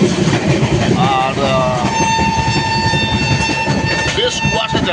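A passenger train with a pantry car rolls along the rails on a foggy morning, a steady rumbling clatter heard from inside the carriage while people talk over it and a drawn-out tone sounds midway.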